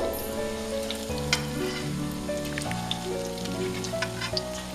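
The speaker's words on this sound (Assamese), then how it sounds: "এনেকৈ ভাজিব লাগিব ৰঙাকৈ।" Spiny gourd fritters sizzle and crackle steadily in hot oil, a close, continuous bubbling hiss with faint tonal hum in the background.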